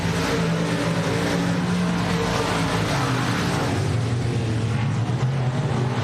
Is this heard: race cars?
yes